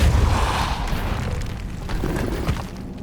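A Depulso spell cast in Hogwarts Legacy gives a loud, booming magical burst up front that fades into a rumbling, whooshing tail with scattered clicks and sharp effects.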